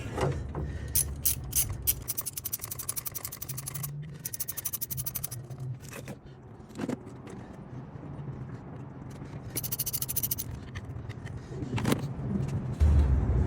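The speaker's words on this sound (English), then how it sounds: "Unthread these bolts." Bolts being unthreaded from the oil cooler on a 2015-2023 Dodge Charger with engine failure, heard as repeated ratcheting and metallic clicking bursts with tool and key-like jangles, close and fairly quiet throughout.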